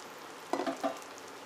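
Boiled cluster beans drop into a pan of reddish fried onions, giving a short sizzle and stirring scrape that is close and moderately loud, with no talk.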